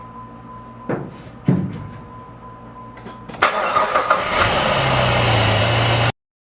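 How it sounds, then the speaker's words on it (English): A car engine cranks during a battery tester crank test, with a few clunks and short bursts before the starter whirs and the engine catches, settling into a loud, steady idle that stops abruptly. "So let's start the engine and do a crank test and see."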